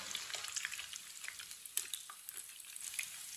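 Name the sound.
potato recipe cooking in pan on medium heat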